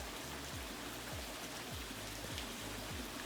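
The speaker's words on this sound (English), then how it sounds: "It's raining a lot." Steady rain hisses down across the whole stretch, a dense even wash of drops with a regular low thumping underneath.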